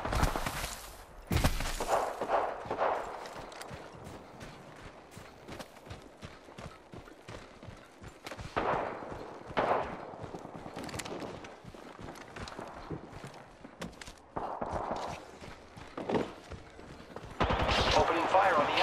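Gunfire in the online shooter Apex Legends: rapid bursts of close weapon shots crack in clustered volleys, broken by pauses and footsteps, with character voice lines speaking between the firing.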